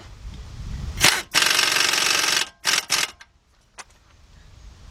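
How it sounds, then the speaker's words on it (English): Air impact gun tightening an 18 mm hub nut on a 2014 Chevy Impala front right wheel bearing: a short rattling burst, then a longer loud hammering run, followed by two quick bursts and a faint tap. "Get our air gun. Tighten that up."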